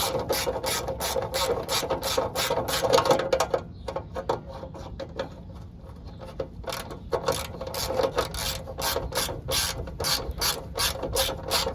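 A ratchet loosens 10 millimeter acorn nuts with rapid, close clicking bursts. The clicking thins out during a short lull midway, then resumes in quick, repeated strokes, with no speech.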